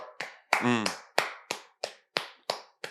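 A person claps hands in a quick irregular burst of about nine sharp claps, close and clear, with a brief voiced sound mixed in near the start.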